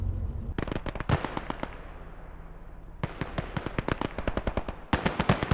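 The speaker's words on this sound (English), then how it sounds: "I hear gunshots!" Rapid bursts of gunfire in quick volleys, three separate strings of sharp cracking shots with short pauses between them, in the World War II video game Call to Arms: Gates of Hell Ostfront.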